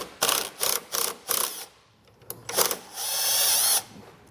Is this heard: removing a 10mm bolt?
yes